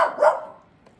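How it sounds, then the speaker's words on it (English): A single sharp dog bark, close and fairly loud, trailing off quickly into quiet. "She's barking at the birds."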